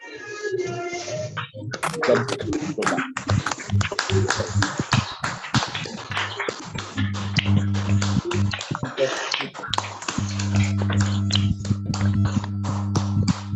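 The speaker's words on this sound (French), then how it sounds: "on peut applaudir pour cette organisation" An audience applauds at an entrepreneurship seminar, a dense patter of clapping running throughout, mixed with background music and a voice speaking over it.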